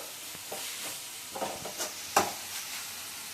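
Onions frying with turmeric and ginger-garlic paste in a pan, a soft continuous sizzle with a few light scraping strokes and one sharper clink, fairly quiet and close, no talk.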